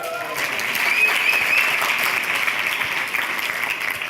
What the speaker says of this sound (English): Great, give him a round of applause.